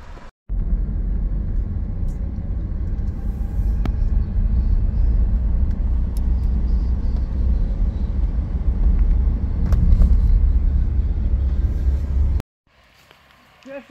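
A car rumbles past cyclists on a road during an ultra-distance cycling race, a steady low engine and tyre roar that swells and holds for several seconds before cutting off, with faint wind noise.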